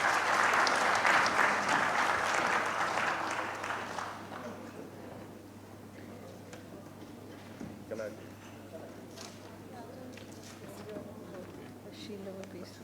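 Conference audience applause at a Karachi water conference, a broad roar of clapping in a hall that fades after about four seconds into quieter murmuring and movement with a steady low hum underneath.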